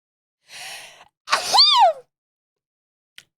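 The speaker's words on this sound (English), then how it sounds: "I have to sneeze." A single sneeze: a short breathy intake, then a sharp, loud burst with a rising-falling vocal tone, followed by silence and a faint click.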